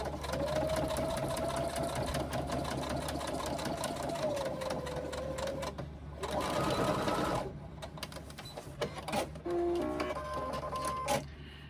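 A sewing machine stitches a fabric pocket pouch in steady, fast runs close by, with a short pause near the middle and a few stop-and-start bursts toward the end.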